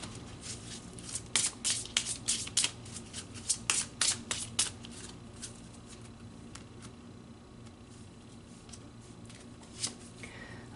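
Tarot soul cards being shuffled by hand, a run of soft riffling bursts over the first few seconds, then quieter handling with a faint steady background hum.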